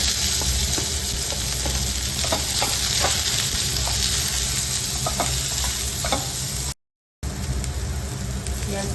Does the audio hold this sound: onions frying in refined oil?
yes